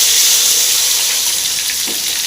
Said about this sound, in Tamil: சாம்பார் வெங்காயம் நல்லா ஃப்ரை ஆகணும் சாம்பார் வெங்காயம் நல்லா வதக்கிங்க